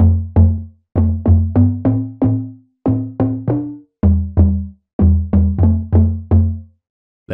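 A distorted synth plays a melodic house line built on two-note chords, a run of short plucky stabs in small groups with brief gaps, loud and alone.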